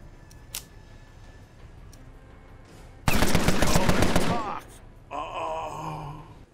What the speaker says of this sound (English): somewhere around here is the best distance to fire the submachine gun